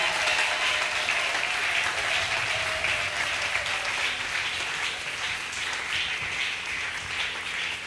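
A church congregation applauding loudly and steadily, a dense wash of many clapping hands that holds at a high level throughout, with faint voices mixed in.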